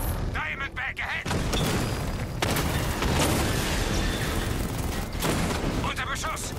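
Heavy gunfire and booming blasts from Batman: Arkham Knight, with dense sustained shooting and explosions nearby, while someone talks over parts of it.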